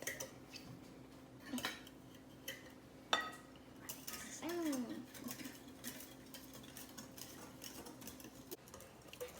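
Madeleine batter with sugar is mixed by hand in a bowl, giving faint, scattered clinks and scrapes of a utensil against the bowl, quiet and close with brief pauses and a stronger knock partway through.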